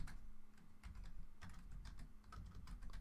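Quiet, rapid keystrokes clatter on a computer keyboard in uneven bursts, with brief pauses between runs of typing, while playing Minecraft.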